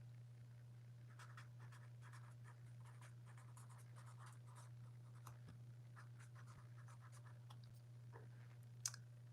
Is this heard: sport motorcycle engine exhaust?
no